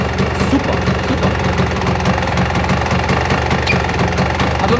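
Vespa PX125 scooter engine with a 210 Malossi Sport conversion kit, running with a continuous rough, rapid knocking beat close to the microphone and a steady, loud, unbroken note.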